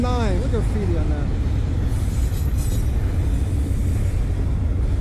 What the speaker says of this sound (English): M409 is coming behind this train